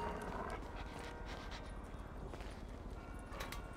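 A dog in Grand Theft Auto V pants rapidly and rhythmically at moderate distance, sitting under a noisy game soundscape with no speech.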